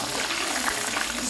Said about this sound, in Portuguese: Aí você vai mexendo que ela vai fritar.